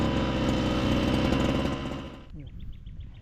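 A motorized grass cutter engine drones loud and steady at close range, then drops away near the end, leaving a quieter chattering idle.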